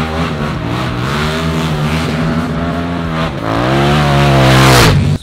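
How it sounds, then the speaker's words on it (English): Stock supermoto motorcycle engine revving hard while drifting, a loud continuous harmonic whine that rises and falls with throttle, climbing sharply near the end before cutting off abruptly; no talking. "Today I'm gonna drift the first time the Supermoto."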